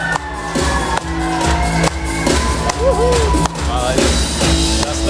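Loud, steady crowd applause and cheering from the audience at a Sabantuy beauty contest, with music and shouts over the clapping and a voice speaking through it.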